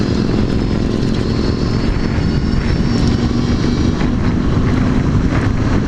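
A Victory Empulse electric motorcycle accelerates hard in second gear, a loud, steady whine mixed with strong wind rush close to the microphone, with no talking.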